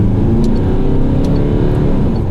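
A Peugeot New 508 GT accelerates in sport mode on a winding road, a steady loud engine drone with heavy low-end road rumble heard from inside the cabin and no speech.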